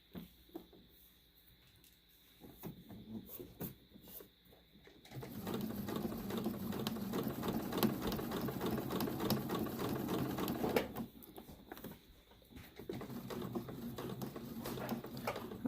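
A sewing machine stitches fabric straight down toward a corner, a steady close mechanical whir running for several seconds between quieter pauses with light handling noise.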